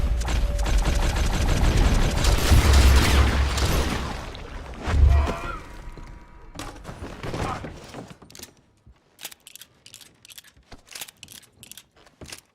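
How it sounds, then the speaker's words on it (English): Rapid gunfire in a Red Dead western video game, a dense burst of shots that trails off into scattered sharp clicks and mechanical clacks. "Pumping an unlucky cowpoke full of lead before they can even lift their gun never stops being fun in the Red Dead games."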